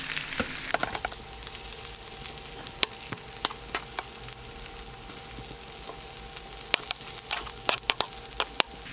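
Brinjals frying in a mutton keema curry in a pan, sizzling steadily while being turned slowly, with scattered sharp scrapes and clicks of the spatula, close up and without talk.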